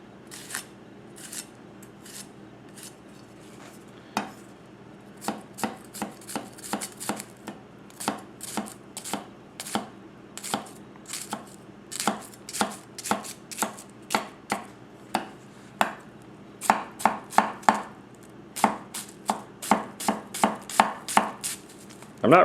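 A Goko 240mm gyuto knife chops an onion on a cutting board in a fast, steady series of crisp taps, speeding up into tight bursts toward the end, close and clear with no talking.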